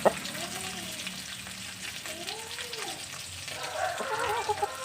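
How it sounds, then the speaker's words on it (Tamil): Chopped onions sauté in a pan for a brinjal and whole cowpea curry, hissing steadily up close with occasional soft stirring sounds and no voices. "கட் பண்ணி போட்டு வதக்கிக்கோங்க."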